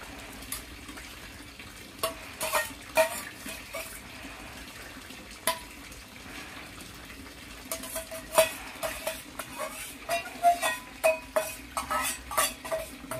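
Curry with gravy stirred in a pan, a spoon scraping and clinking against the metal in irregular strokes, sparse at first and then quicker and more frequent, with a faint sizzle underneath and no talking.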